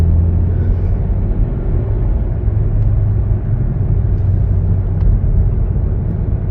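Interior drone of a 2013 Volkswagen Golf VII 1.4 TSI 122 hp Comfortline accelerating on the road, a loud steady low engine and road rumble with no speech.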